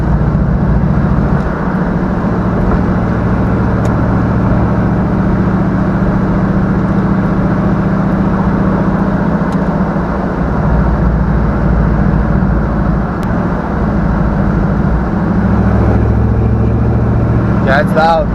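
An LS-swapped GMC Sonoma pickup drives around town with a loud, continuous engine and exhaust roar from inside the cab, the exhaust exiting on the passenger side; a voice talks over the drone.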